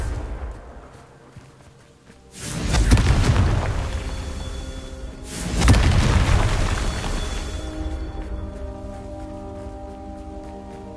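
Two heavy, booming blasts of the Confringo fire spell in a wizard video game go off about three seconds apart, each loud and close with a long rumbling tail.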